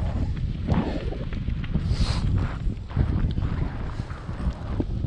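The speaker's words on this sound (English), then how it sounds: "It's the last time you have to battle this wind." Strong wind buffets the microphone throughout a 5K/10K outdoor time-trial race, a steady loud low roar with gusts and no clear speech.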